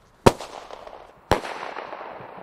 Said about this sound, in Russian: Компания Александра Островского запускает городские салюты больше 10 лет